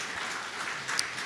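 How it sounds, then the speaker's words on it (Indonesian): Applause from a church congregation at a morning devotional service, a steady patter of many hands clapping at moderate distance for a short stretch, with no voices over it. "Di sini saudara menyambut dengan tepuk tangan"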